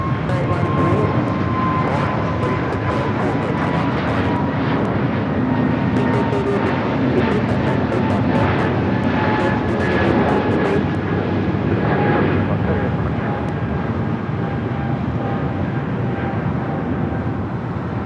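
A Delta airliner takes off at LAX, a steady, loud roar of jet engines sustained throughout with a few faint whining tones, while tower radio chatter crackles intermittently on top.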